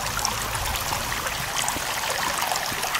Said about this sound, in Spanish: No, escucho agua.